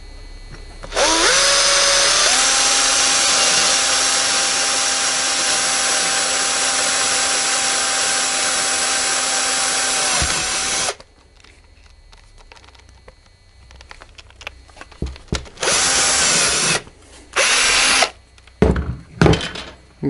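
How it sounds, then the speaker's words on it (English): A power drill bores two holes straight through material for a homemade pike fish trap, running in one steady, loud whine of about ten seconds that then cuts off, followed by scattered handling clatter and short bursts. "I'm gonna drill them through."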